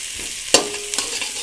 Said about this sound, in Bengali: কষিয়ে নিচ্ছি আলুগুলো